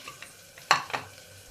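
Masala frying in oil in a pan for Dal Palak gives a faint low sizzle, broken by two short scraping stirs close by, then settles back to a quiet simmer.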